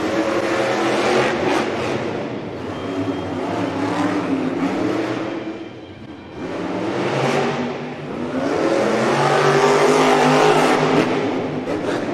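A monster truck engine revs hard at a Monster Jam freestyle event in Manchester, NH, a loud, sustained roar that surges in waves, dips briefly, then climbs again under crowd noise.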